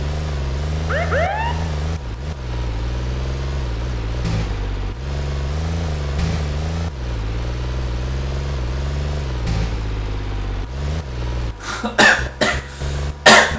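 Police sirens in the Tony Hawk Underground video game wail and sweep steadily over a droning car engine, with sharp bursts near the end.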